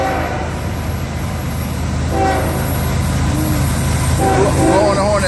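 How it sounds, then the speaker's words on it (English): A long freight train on the tracks sounds its horn, a sustained tonal blast rising toward the end over the steady rumble of rolling cars, with someone talking nearby. "Blowing a horn at me."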